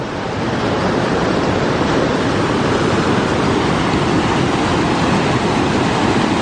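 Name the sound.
wind blowing near the waterfalls in Sioux Falls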